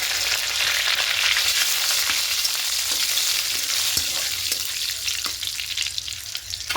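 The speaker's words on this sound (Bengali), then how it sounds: "এবার এই তেলের মধ্যে ফোড়নে দেবো এখানে আছে জিরে এলাচ লবঙ্গ দুটো শুকনো লঙ্কা" Cumin, cardamom, cloves, dried red chillies, cinnamon and bay leaves hiss in hot oil with a loud, continuous close-up sizzle. Occasional faint clicks of stirring come through.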